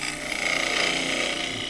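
A lathe gouge cutting green elm while turning a small pot, a steady soft hissing scrape that runs evenly through the short stretch.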